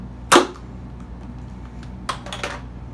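A Nerf Hammerstorm blaster, fired one-handed, lets off a single sharp dart shot up close, followed by fainter mechanical clicks and rattles of the blaster about two seconds later.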